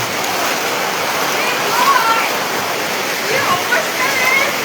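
Water pours steadily into a flooded house, a dense unbroken rushing wash that stays loud and constant throughout, with no voices over it.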